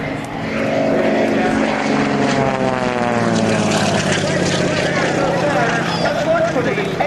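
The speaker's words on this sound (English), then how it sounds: "Frank Ryder from New Orleans, Louisiana, and the Oreck XL Cyclone" Propeller engine of the Oreck XL Cyclone aerobatic plane flown by Frank Ryder at the 2004 Rhode Island Air National Guard open house airshow, a loud steady drone with shifting pitch as the aircraft maneuvers overhead, with talk over it.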